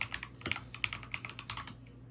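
Quick bursts of typing on a computer keyboard, irregular clicky keystrokes at close range, fairly quiet, with no voices.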